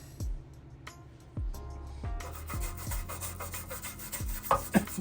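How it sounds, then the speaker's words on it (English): A plain bristle brush scrubs a part from a 1987 Buick Regal Limited turbo, giving close, rasping strokes in a steady back-and-forth rhythm with a few sharper knocks and scrapes. "And it's just a normal bristle brush. Nothing fancy."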